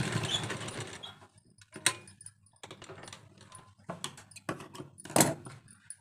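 A sewing machine stitches a strip onto a kurti in short, intermittent bursts of rapid mechanical clatter broken by quiet pauses, heard close up and without speech.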